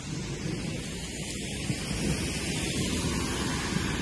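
Heavy rain pours down in a steady, dense roar with gusts of wind buffeting close by, loud and unbroken throughout.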